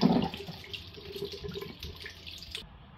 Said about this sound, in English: And now cold water. You can see it mixing around there with the hot water.